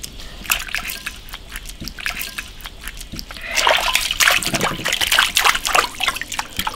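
A leg of lamb is washed in water, with dribbling and splashing that grows into busier sloshing and splattering close by, with no talk.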